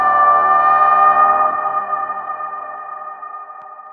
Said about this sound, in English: a softer signature sound created out of a door creak that I really liked